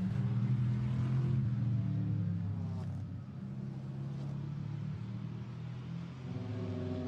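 Mercedes-AMG GT4 race car, number 30, running at Imola during GT4 Europe qualifying, its engine a steady, loud low rumble that holds throughout with slight shifts in pitch.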